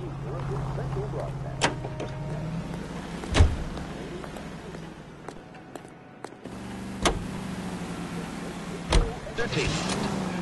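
Car engine drone and road rumble from driving in the video game L.A. Noire, with sharp thumps and clicks scattered over the steady hum and a short drop partway through.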